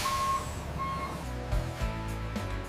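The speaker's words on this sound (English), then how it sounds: "Trucks arrive ready to carry the finished sugar to market." A truck at a cane sugar factory backs in with steady reversing beeps over a continuous diesel engine rumble and a hiss of air brakes, no voices.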